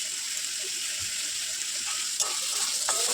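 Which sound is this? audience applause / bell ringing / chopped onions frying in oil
chopped onions frying in oil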